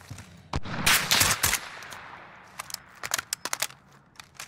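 Gunfire in Call of Duty: Warzone, a loud close burst of automatic fire early on, then a quieter stretch and a string of separate single shots toward the end.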